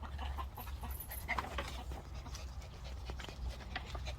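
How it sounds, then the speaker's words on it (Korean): A dog pants steadily and quite faintly, with a few soft snuffles mixed in, against a rumbling background. "댕댕아 댕댕아 반가워요"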